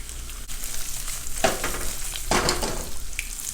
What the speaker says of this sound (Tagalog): Unahin ko na po itong talong. Prito natin sandali ha.